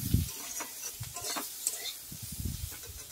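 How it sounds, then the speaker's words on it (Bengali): A spatula stirs fish curry with elephant foot yam and chili powder frying in a pan. Close, irregular scraping strokes run over a steady background sizzle. "তারপরে বন্ধুরা একটু নাড়তে থাকবো।"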